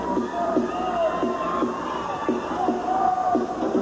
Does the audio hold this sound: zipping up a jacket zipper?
no